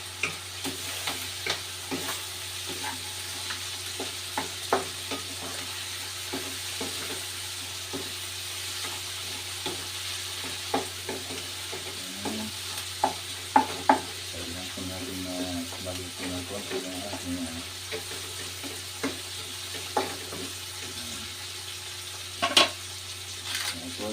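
Vegetables being stirred in a frying pan, irregular utensil scrapes and clinks over a soft steady sizzle, close, with occasional voices in the background.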